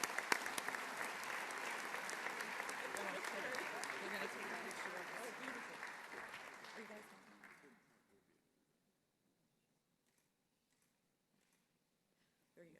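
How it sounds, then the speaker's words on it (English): An audience at a 2011 annual conference session claps in sustained, dense applause for several seconds, then it thins out and dies away into near silence. "Please give Brooksville a round of applause for their effort."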